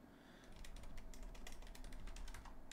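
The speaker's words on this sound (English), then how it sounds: "First thing we want to do is we'll type session." Quick run of keystrokes on a computer keyboard, close and faint, a rapid patter of clicks typing a command, with no voice present.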